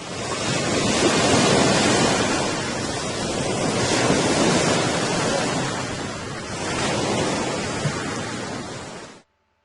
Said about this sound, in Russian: Послушай шум моря.